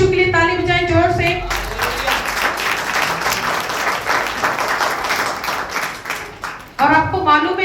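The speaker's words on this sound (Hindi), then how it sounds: "यीशु के लिए ताली बजाएं जोर से।" A church congregation claps loudly and continuously for Jesus, dense, sustained applause sitting between stretches of a preacher's voice at the start and end.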